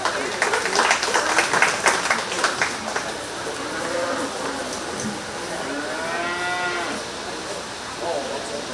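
A crowd at a 4-H cattle show at the 2021 Shelby County Fair gives a short round of applause that fades within a few seconds, followed by nearby cattle mooing.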